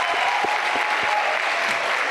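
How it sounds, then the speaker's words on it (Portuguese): Continuous crowd applause at a fashion catwalk show for a couple of seconds, dense and even, with a few louder individual claps standing out up close. "Pessoal, uma salva de palmas pro Enzo aqui,"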